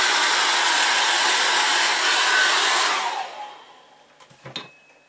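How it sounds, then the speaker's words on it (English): A hair dryer blows steadily and loudly on acrylic paint for about three seconds, then cuts off and winds down, leaving faint handling clicks and knocks. "I'll dry that with the air dryer."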